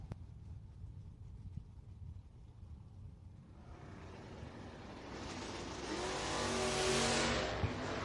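A Chevrolet Nova launches at a bracket drag race, pulling a wheel stand. A low engine rumble grows into a loud rising roar as it accelerates away, heard from a distance and with no talk.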